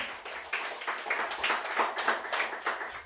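A church congregation applauds during a sermon, with scattered overlapping handclaps in a loose, uneven patter, fairly soft and heard from a little distance.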